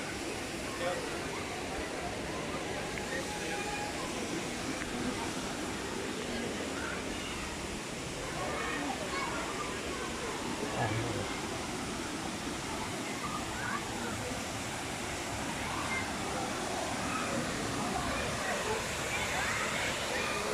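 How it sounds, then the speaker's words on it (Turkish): Ilıca waterfall pours in a steady, dense broadband rush of falling water that fills the whole stretch without pause, loud and constant with no clear voices on top. "Evet Ilıca Şelalesi'ne geldik bile."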